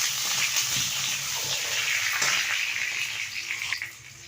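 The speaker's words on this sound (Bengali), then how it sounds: "আমি আলুগুলো লাল লাল করে ভেজে নিই।" Potato pieces fry in hot oil in a kadai until browned, giving a continuous close, bright sizzle and crackle with a few louder spits near the end.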